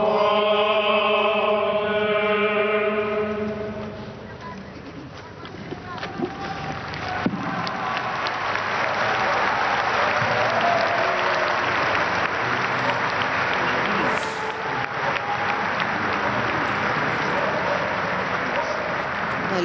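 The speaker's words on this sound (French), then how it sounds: "Les applaudissements des dizaines de milliers de fidèles rassemblés au Colisée au terme de ce chemin de croix" Applause from tens of thousands of faithful gathered at the Colosseum after the Way of the Cross, a broad distant roar of clapping rising and holding steady, with a sung or spoken voice at the start.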